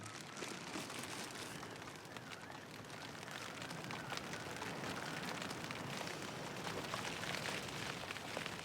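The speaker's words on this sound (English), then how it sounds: "It's still raining just as heavy." Heavy rain falls steadily on a kayak expedition, a dense even hiss of drops hitting surfaces with no pauses, quite faint overall and with no voices.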